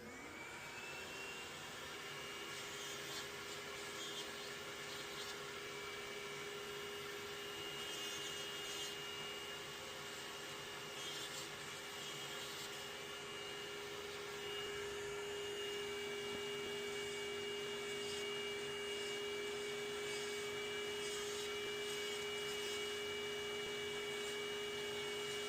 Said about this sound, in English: let me just use my sander and see if I can get a little bit more of that thinned out right there